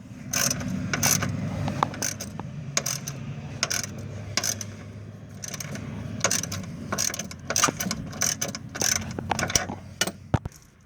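Ratcheting wrench clicks in quick irregular bursts as Loctite-coated bolts are lightly snugged down on Mazda 6 front suspension, close and steady with faint metallic clinks and no talking.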